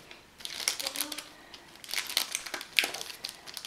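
A greeting card holding two soft plastic beetles is opened, giving a run of close crinkling and crackling paper rustles, with a brief sharper crackle near the end and a voice chatting lightly between.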